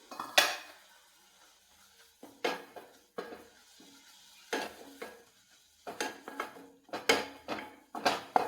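Metal pot lid and utensil clatter while cooking carrot, egg, cheese and pepper, a series of sharp clanks and scrapes at irregular intervals with quiet gaps between, close and moderately loud.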